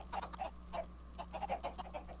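Chickens cluck in a Minecraft chicken farm holding about a hundred birds, a string of short, fairly faint overlapping clucks and squawks in uneven bursts over a low steady hum.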